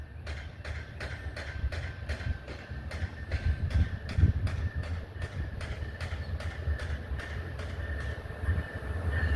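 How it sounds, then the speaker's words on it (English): Amtrak train 89 rolls southbound through Ashland, Virginia, wheels clicking in a steady rhythm over rail joints as the cars pass nearby, with a continuous rumble and faint tonal hum. "Looks like we've got Amtrak 89 coming southbound at you."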